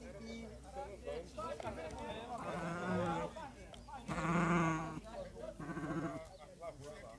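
Sheep and goats bleat repeatedly at a livestock fair in northeastern Brazil, several loud nearby calls rising over a crowd of people talking and bargaining.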